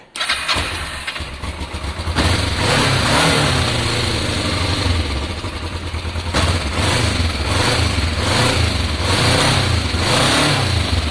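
A motorcycle fitted with a full stainless exhaust fires up on full choke after a brief crank, then settles into a loud, steady, slightly pulsing idle with a few revs, close to the listener.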